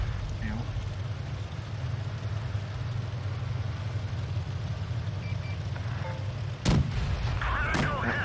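A tank's main gun fires once in the mobile tank battle game World of Tanks Blitz, a single sharp, booming shot cutting through a steady engine drone near the end.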